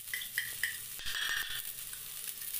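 Poha is stirred while frying in a pan, giving a steady sizzle with a few sharp scrapes and clinks of a spoon against the pan, heard close with no talking.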